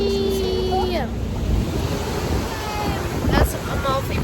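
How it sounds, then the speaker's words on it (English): Sea water slaps and sloshes against a small boat rocking off the Amalfi Coast near Positano, with steady wind rushing over the microphone and a few bursts of voices and laughter on board. "the water is rocking the boat a lot"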